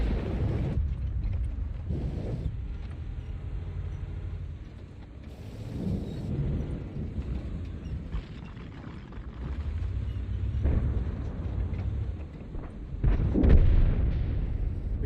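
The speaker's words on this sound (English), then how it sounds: "you see artillery trying to go for me" Heavy artillery fire from tanks in the World of Tanks video game: a series of deep, rumbling booms arriving every few seconds over a low continuous battle rumble, with no talking.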